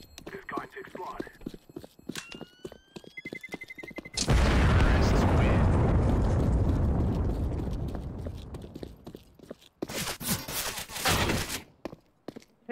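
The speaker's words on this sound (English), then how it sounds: "The bomb blew up" A bomb detonates in the game CS:GO with a sudden loud, broad blast that rumbles and slowly fades over several seconds, after scattered clicks and gunfire, followed by more game noise.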